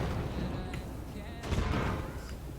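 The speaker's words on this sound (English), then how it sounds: "Commander active, cannons are going." Cannons firing in the physics-based RTS game Forts, heard as dense, booming game combat with repeated blasts and a busy rumbling bed, the loudest bursts coming around the middle.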